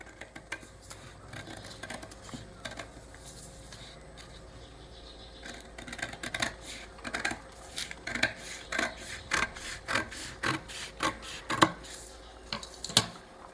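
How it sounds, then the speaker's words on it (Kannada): Scissors snipping through fabric while cutting a one-inch round neckline, a run of quiet, close crisp snips that grow more regular and pronounced in the second half, with no talking. "ಇಲ್ಲಿ ನಾನು 1 ಇಂಚಿಗೆ ಹಾಕಿದ್ದೀನಲ್ಲ ಅದನ್ನೇ ನಾನು ಕಟ್ ಮಾಡ್ತೀನಿ ಈಗ"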